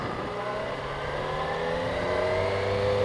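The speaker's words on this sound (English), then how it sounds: "ease off the clutch, find the friction zone, give it a little bit of gas" A motorcycle engine revs up as the rider eases off the clutch and pulls away in a parking lot, a steady close engine drone rising gradually in pitch, with no talk.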